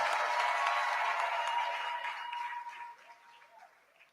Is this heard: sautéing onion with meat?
no